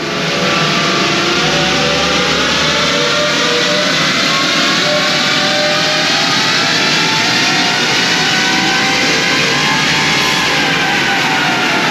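A Tank 300 engine revs loudly and steadily on a dyno during a stock baseline run, with a dense, sustained roar and rising tone sweeps over about twelve seconds, no voices.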